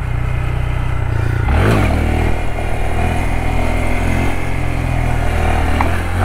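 A 2022 Honda Grom motorcycle revs loud and close during a wheelie attempt, a steady engine drone with one sharp rising surge before settling back to a sustained throttle note.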